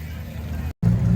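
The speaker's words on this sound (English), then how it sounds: "Here's some 6-cylinder noises" Six-cylinder classic car engine idling at a Brooklands New Year classic car meet, a steady low rumble close by with a brief cut, then returning louder and fuller, faint crowd chatter in the background.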